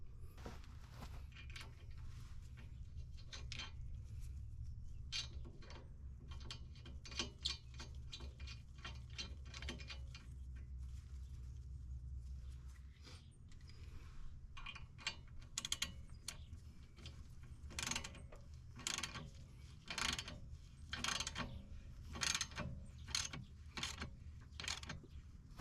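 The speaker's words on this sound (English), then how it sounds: "A longer ratchet with more leverage wouldn't hurt." Ratchet wrench tightening a lug nut on a Subaru Outback front wheel hub during stud replacement, a run of rapid clicking pawl strokes over a low steady hum, coming in uneven bursts close by.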